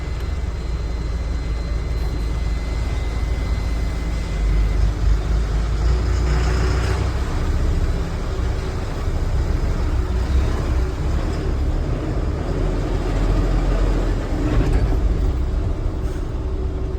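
A loaded truck in India rolling toward the weighbridge, a steady continuous engine and road drone heard from inside the cab, moderately loud with no talk.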